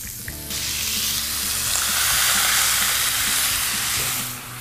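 Seasoned pork lands in a hot pan and bursts into a loud, close, continuous sizzle that swells and then holds steady for several seconds, with no one talking.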